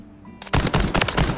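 Automatic machine gun fire from the RAAL MG in the shooter game Call of Duty: Modern Warfare, a loud rapid burst of repeated shots that starts abruptly after a brief quiet lead-in.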